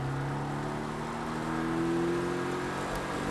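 A Porsche Cayman S accelerating out of a corner on a race circuit, the engine note climbing steadily and droning loud and close from start to finish.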